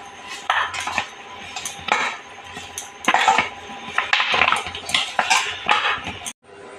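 Mashed potatoes being worked together with salt and amchur by hand or spoon in a bowl, giving close, irregular scraping and clinking of utensil against dish in short bursts, with no talking.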